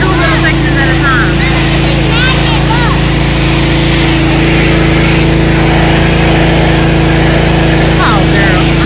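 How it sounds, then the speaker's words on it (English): A pressure washer blasts grime from a dirty, neglected swimming pool, its steady engine drone and broadband spray roaring on without a break while people talk over it. "That thing right there, that pressure washer is getting it."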